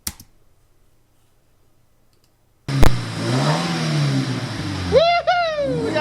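A Subaru BRZ engine cranks and fires after a stretch of near silence, then idles unevenly with a rough, lumpy note before a brief rev rises and falls near the end.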